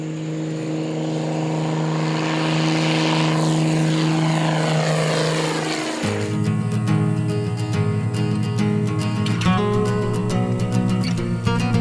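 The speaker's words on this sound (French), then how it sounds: "L'avion est donc le moyen le plus facile pour y aller." A small propeller airplane, the only plane serving the Corcovado region of Costa Rica, drones loudly and steadily with a throbbing engine tone that shifts pitch partway through, heard alone without talk.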